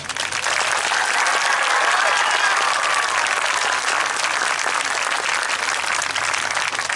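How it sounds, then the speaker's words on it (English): Loud, sustained crowd applause fills a high school marching band varsity show as the audience cheers the band boosters, a dense steady roar of clapping throughout with no talk over it. "give a round of applause to our hard-working band boosters"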